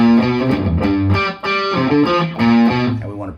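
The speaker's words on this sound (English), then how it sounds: "I've got a healthy dose of distortion, not metal, but just a nice, thick, crunchy rock tone" A loud distorted electric guitar plays a thick, crunchy rock riff, chugging chords with short pauses between phrases, alone without voices.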